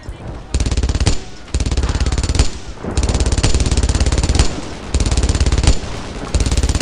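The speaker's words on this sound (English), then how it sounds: "Oh, he got off the machine gun." Machine gun fire in Brothers in Arms: Earned in Blood, loud sustained rapid bursts separated by short pauses, close and dominating throughout.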